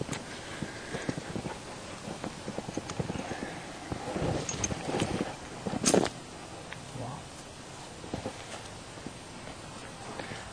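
A horse's hooves clip-clop at a walk during bridleless riding in a clicker-training session, steady and moderately close, with a rider's voice speaking softly over the steps.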